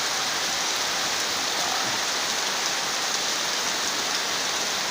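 A downpour of heavy rain drums in a constant, loud, even roar of countless drops on surrounding surfaces, with no speech over it.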